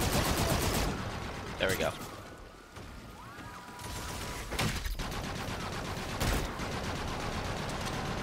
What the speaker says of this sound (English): Just fire off a couple rounds into the darkness.